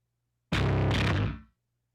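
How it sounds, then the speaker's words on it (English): A single distorted bass note, gritty and loud, lasting about a second before quickly fading into silence. "real bass with a bit of distortion and stuff"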